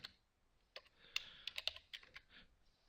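Soft, quiet keystrokes on a computer keyboard as code is typed in a coding lecture, a few scattered taps then a quicker cluster of clicks, with no talking.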